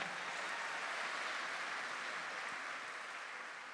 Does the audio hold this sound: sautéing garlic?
no